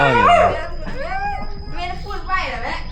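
A dog yelps and whines in high, wavering cries close by, mixed in with voices.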